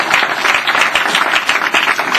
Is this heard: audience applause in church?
yes